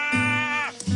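A person imitates a deer bleat with their voice, one short nasal bleat less than a second long, quavering and close, ending with a brief grunt-like breath.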